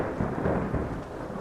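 Heavy thunderstorm rain in the video game Skyrim, a dense steady low roar with rumbling thunder rolling underneath, continuous and fairly loud with no voices over it.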